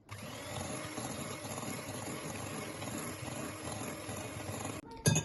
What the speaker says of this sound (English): First, I'm going to be whisking the cream.